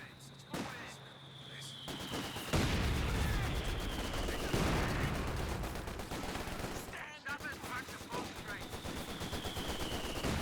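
Machine-gun bursts, rifle fire and heavy mortar impacts from a Company of Heroes 2 battle involving Grenadiers crackle almost nonstop, loud and dense, with occasional booming hits beneath a commentator's voice.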